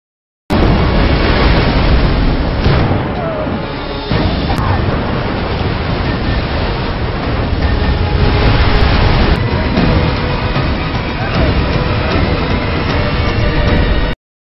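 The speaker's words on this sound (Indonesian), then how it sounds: "Hingga akhirnya banjir bandang pun tiba." Rushing water of a flash flood along a river, a loud, continuous broadband roar and surge that holds steady throughout with no breaks.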